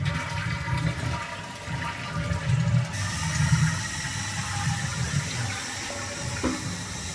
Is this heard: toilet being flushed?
yes